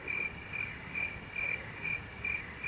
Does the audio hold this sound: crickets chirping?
yes